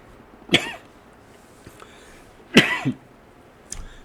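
A woman coughs twice, a couple of seconds apart, after drinking cold water, close and fairly loud, followed by a faint throat sound in an otherwise quiet room.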